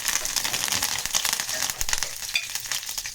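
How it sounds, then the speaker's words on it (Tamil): Curry leaves dropped into hot oil for an egg curry gravy, a loud, steady crackling sizzle with popping bursts filling the whole stretch, no voices. "அதனால் எண்ணெய் சூடாகிடுச்சு. இப்போது நம்ம கருவேப்பிலை சேர்த்து"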